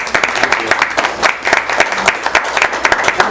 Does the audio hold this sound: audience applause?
yes